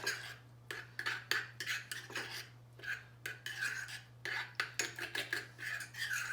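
Deli mustard, a German-style mustard, being stirred into a dipping sauce for meatballs, a spoon scraping and clinking against a bowl in short uneven bursts, close and fairly quiet with no talk.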